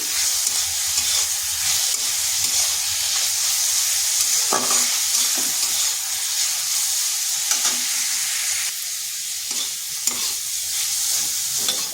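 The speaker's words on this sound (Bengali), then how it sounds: "পেঁয়াজটা ভাজা হয়ে গেছে।" Chopped onion and two green chilies fry in oil with a continuous close sizzle, broken by several scraping stirs of a spatula against the pan, no talking.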